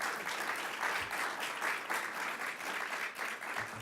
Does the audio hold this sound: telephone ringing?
no